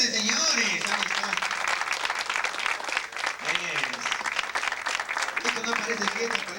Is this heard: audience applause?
yes